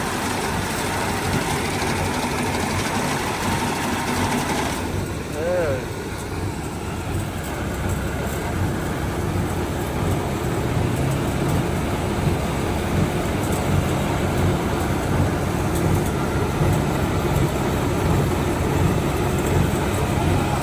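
A rice harvester runs with a steady, loud mechanical drone and rattle throughout, the engine holding an even idle-like roar with no talk over it.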